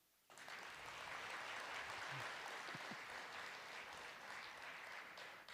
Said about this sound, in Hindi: ताली बजा थोड़ा सा